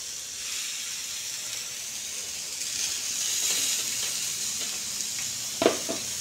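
Murrel fish frying in oil: a steady, fairly quiet sizzling hiss runs throughout, with a brief sharper clatter near the end.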